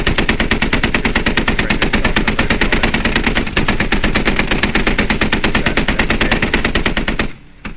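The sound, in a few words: gunfire in a video game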